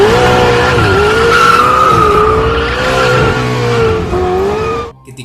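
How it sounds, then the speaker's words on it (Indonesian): A car's tires squeal in a long, loud skid during a movie car chase, the pitched screech wavering for several seconds before cutting off abruptly, with no talking. "Lee yang ditemani Farida bergegas membawa mobil untuk mengejar Omar."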